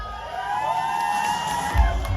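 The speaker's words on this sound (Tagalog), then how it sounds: "Gusto ko marinig yung malakas na sigawan at palakpakan." A crowd at a Christian song competition's district finals shouts and cheers together in a steady, loud wall of voices with whoops and yells, close by and continuous throughout.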